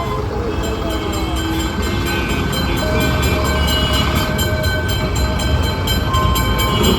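A tram running on rails gives a loud, steady rolling rumble with sustained metallic squealing tones overhead, continuous and close for the whole stretch.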